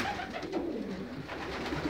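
Racing pigeons coo steadily in a loft, several birds layered in soft, continuous low murmuring throughout with no voices over them.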